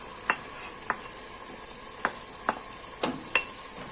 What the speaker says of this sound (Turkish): Kavrulan etlerin içerisine şimdi soğanlarımı alıyorum.